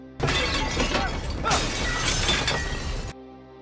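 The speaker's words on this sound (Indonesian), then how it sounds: "komplotan rentenir ini memecahkan kaca dan mengobrak-ngabrik kafenya" Glass is smashed in a film scene, a loud sustained crash with shards ringing and scattering for about three seconds before it cuts off.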